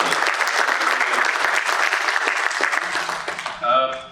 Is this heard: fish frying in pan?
no